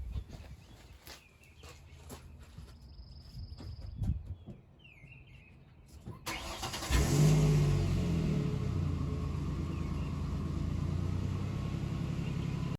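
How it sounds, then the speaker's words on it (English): Birds chirp faintly outdoors in quiet surroundings, then a parked vehicle's engine cranks and catches with a sudden rumble and settles into a steady, close idle. "let me go get the vehicle turned on real quick"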